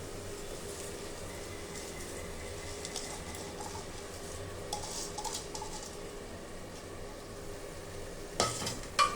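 Spices for chicken pulao sauté in a pan with a low, continuous sizzle and occasional scraping stir, quiet and close, ending with a couple of louder utensil knocks.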